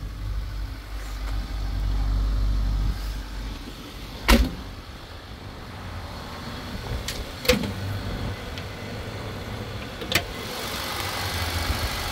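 Four-cylinder engine of a 1990 Daihatsu Rocky SX idling with the hood open, a low steady rumble broken by three sharp clanks or thumps nearby, no talk.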